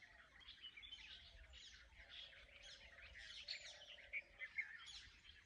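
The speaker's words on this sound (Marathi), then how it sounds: "बऱ्याचशा पक्ष्यांचा आवाज येते." Many birds, sparrows among them, chirp and tweet faintly in a morning village setting, with overlapping small calls that grow into a few louder bursts near the end. No one speaks.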